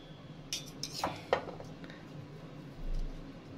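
A cooking pot used for quince paste is handled, with a few close metallic clinks and knocks against utensils, then quieter rustling.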